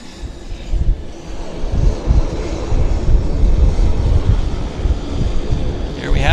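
WestJet airliner on the active runway at Vancouver Airport, a steady broadband engine roar with wind buffeting, sustained and fairly loud throughout.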